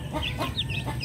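Darag rooster with unusual brown and yellow neck coloring clucking close by, several short throaty notes in quick succession against steady farmyard background noise.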